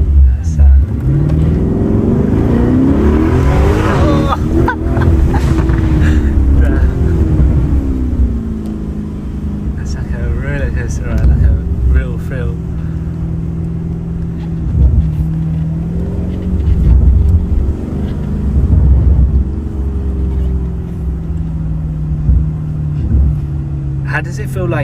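A 2024 Lamborghini Urus Performante with an Akrapovic exhaust drives in Corsa mode, its engine note rising and falling through rumbling revs and gear changes, heard loud and close from inside the cabin.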